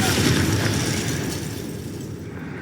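A fiery Confringo spell blast from the Hogwarts Legacy video game bursts loudly at the start, then rolls off into a fading rumble over a couple of seconds.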